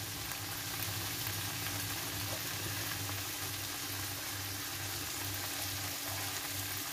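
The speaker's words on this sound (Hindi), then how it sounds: "मैंने जो रोटी का पास्ता कट करके रखा था उसको हम डाल लेंगे थोड़ा थोड़ा करके" Cut pieces of roti pasta sizzle and fry in a pan for vegetable atta noodles, giving a loud, dense, continuous hiss close up, with a faint low repeating rumble underneath and no talking.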